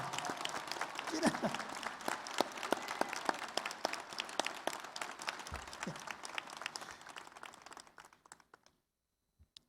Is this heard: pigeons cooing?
no